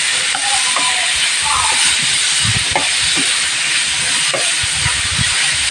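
Minced meat with turmeric for a cottage pie sizzles in a pan over sautéed onions while being stirred, giving a steady close hiss of frying broken by soft scraping and knocking stirs, with no one talking.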